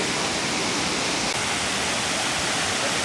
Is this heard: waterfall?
yes